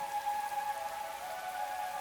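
Steady rain falls in a video game scene under a night sky, giving a continuous even patter with a faint tonal hum running beneath it, no voices.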